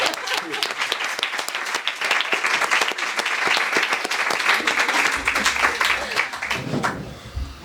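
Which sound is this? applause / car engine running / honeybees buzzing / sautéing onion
applause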